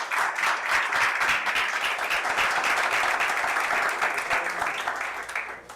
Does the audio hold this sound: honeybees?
no